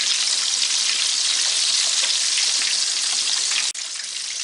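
Fish pieces frying in hot oil, a loud close dense sizzle that holds steady throughout, broken by a brief clack near the end, with no voices.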